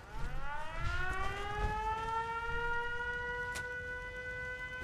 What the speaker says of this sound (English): that siren is getting annoying